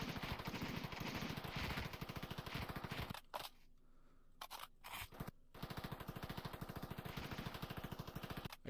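Rapid automatic gunfire in the VRChat virtual world, loud and close, rattling in dense bursts that cut out briefly mid-clip before resuming at the same relentless pace.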